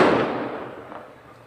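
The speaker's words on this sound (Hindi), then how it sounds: "अभी पटाखे बज रहे हैं, उसी की आवाज" A single firecracker burst goes off outside during an accounting class, a sharp crack that trails into a fading, crackling decay with no talk over it.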